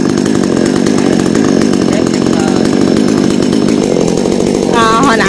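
Chainsaw cutting a Sao tree, its engine roaring steadily and loudly close by for the whole stretch, with a change in pitch near the end.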